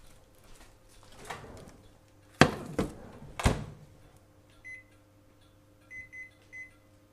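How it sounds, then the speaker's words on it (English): A microwave oven heating pears gives off a low, steady hum. Door thunks and clunks sound close by, then faint electronic beeps chime in a few short groups toward the end, with no speech. "And then you want to microwave these for 3 to 4 minutes"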